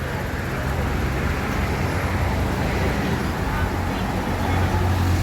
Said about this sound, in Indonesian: Ini ada bus PM To ya, Aceh tujuan ke Bandung